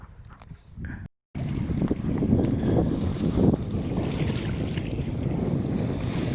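A sailboat under sail off Leucate on a first outing with an autopilot, with steady wind buffeting the microphone and water rushing along the hull, continuous and close after a brief dropout near the start.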